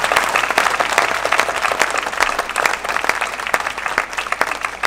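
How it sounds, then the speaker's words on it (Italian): Audience at a CD launch event giving sustained, dense applause, many hands clapping close together with sharp individual claps standing out throughout. "io voglio fare un grande applauso"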